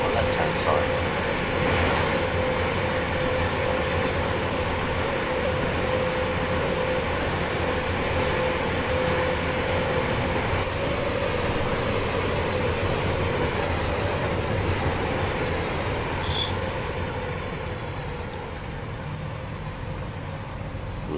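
A simulated passenger train on the Milton Keynes to Euston stopping service in Train Sim World rolls steadily along the main line near Euston Junction, a continuous rumbling drone with a faint tonal hum, a voice commenting over it.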